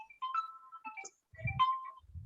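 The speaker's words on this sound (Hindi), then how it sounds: "एक मिनट रुको, है ना, फोन आ रहा है" A phone ringtone sounds for an incoming call, a short melodic electronic tune of clear chiming notes, played close and on its own in a quiet room.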